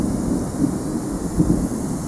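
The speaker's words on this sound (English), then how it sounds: "We just need to hit it with the pressure washer and clean this off" A pressure washer blasts a rusty small-block Chevy engine block with a steady, dense roaring hiss. The spray is loud and close and holds constant through the short stretch.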